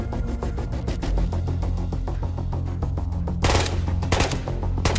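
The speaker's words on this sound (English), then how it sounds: "Don't worry about those shots." Rapid bursts of gunfire in the video game Ghost of Tabor, a steady run of sharp automatic shots with a louder, denser volley near the end.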